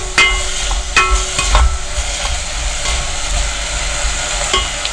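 Beef stir-frying on the lowest heat in a pot as the first step of a beef seaweed soup, giving a steady soft sizzle with a few sharp utensil clicks and scrapes near the start.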